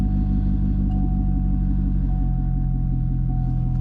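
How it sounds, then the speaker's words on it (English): A 2008 Chevrolet Corvette with a muffler delete idles or cruises, its exhaust a steady, loud, deep rumble that runs unbroken and close throughout. "So if you guys are looking to get a muffler delete, it sounds amazing."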